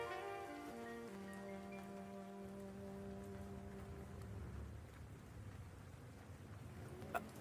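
Steady rain falling outdoors, a faint continuous hiss of drops with a sustained musical tone fading out early on and a brief sharp knock near the end.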